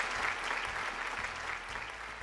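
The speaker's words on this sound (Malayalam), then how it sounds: "നല്ലൊരു കൈയടി കൊടുക്കാം ഗായത്രിക്ക്" A game show studio audience claps, a dense, steady round of applause at moderate level throughout, with no talk over it.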